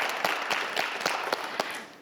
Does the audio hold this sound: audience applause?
yes